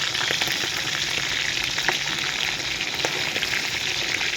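Catfish frying in hot oil, a loud, continuous crackling sizzle with dense popping that holds steady throughout, close up and without talking.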